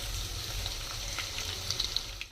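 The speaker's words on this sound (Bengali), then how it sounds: "আমি পেঁয়াজগুলো বেরেস্তা করে নেবো" Sliced onions frying in oil until crisp for birista, a steady close hiss of sizzling with a few brighter pops and a faint stir near the end, no voices.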